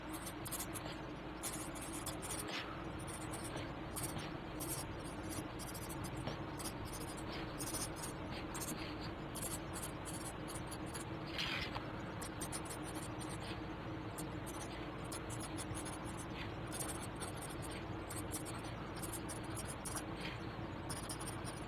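Palomino Blackwing 602 pencil writing a paragraph on paper: a soft, continuous scratching of graphite strokes, close and quiet, with short pauses between words and no talking.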